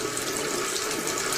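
Water running from a faucet, a steady hissing rush with a faint gurgle, continuous and fairly close, with no voices.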